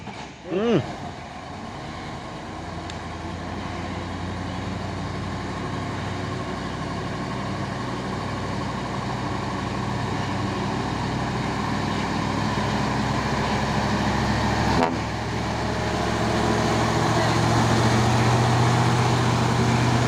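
Two trailer trucks hauling ground piles labour up the steep Bukit Kodok hill, their heavy diesel engines droning loudly and steadily nearby and building slightly in strength as they climb.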